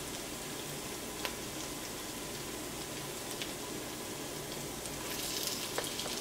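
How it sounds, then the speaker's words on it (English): Quiet, steady sizzling and crackling of curry frying in a pan, with a few sharper pops scattered through, no one speaking. "The curry has been frying for about 2 minutes now."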